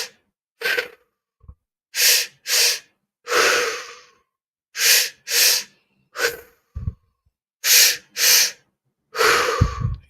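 Deep, repeated breaths during a guided breathing exercise, about a dozen audible inhales and exhales in a steady rhythm, close and clear, with no talking.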